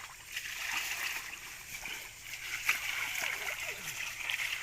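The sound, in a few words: water splashed from bucket onto sluice carpet, gold panning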